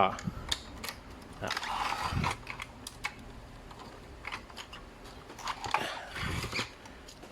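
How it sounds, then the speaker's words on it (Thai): Small clicks and rattles come from a screwdriver removing bolts on an Epson L300 printer, irregular and close, while someone talks over them. "เราถอดน็อตออกก่อนนะฮะ"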